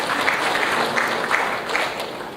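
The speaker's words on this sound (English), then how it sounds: "Let's have a round of applause, please." Audience giving a round of applause at the Air Cargo India 2016 event, steady dense clapping from a crowd throughout, with a faint voice underneath.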